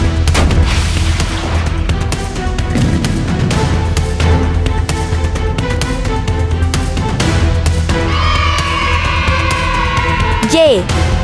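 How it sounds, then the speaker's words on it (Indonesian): Explosive booms and gunfire-like blasts from a rocket launcher in a video game ring out loudly amid dense, continuous game sound, with a rising whistling sweep near the end. "Rasakanlah tembakan roketku ini."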